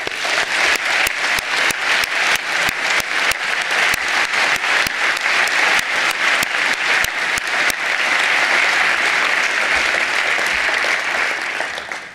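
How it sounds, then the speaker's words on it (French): Sustained audience applause fills an academic year opening ceremony, dense and steady clapping from a large crowd at close range, holding at full level for about twelve seconds before fading slightly at the end. "je vous propose de les applaudir."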